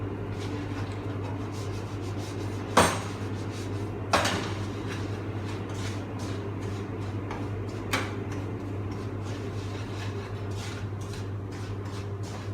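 Semolina being slowly roasted in a pan over low heat for helva: a steady low hum with a few isolated spoon clinks and scrapes against the pan, spaced several seconds apart.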